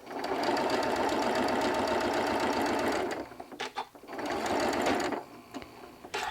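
A domestic sewing machine stitches a straight quarter-inch seam joining fabric pieces, running in a steady fast whirring chatter for about three seconds, pausing briefly, then whirring again.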